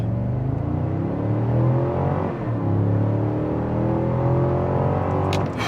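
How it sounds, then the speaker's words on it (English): A 2026 Cadillac Escalade pulling away hard from a standstill in sport mode, its engine note a loud, steady rising roar with climbing tones heard from inside the cabin, ending with a brief voiced exclamation. "Sport mode, off the line, on the gas."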